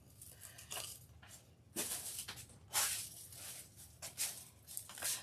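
Scissors snipping through deco mesh, a series of crisp rustling cuts and crinkling plastic-fabric sounds at close range, fairly quiet with brief pauses between snips.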